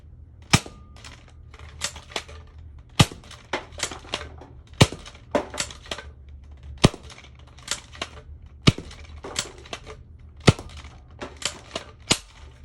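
A modified Nerf Maverick Rev-6 blaster, with spring work, restrictors removed and drilled barrels, fires Elite darts in a string of about a dozen sharp, loud pops with brief clacks between, spaced irregularly.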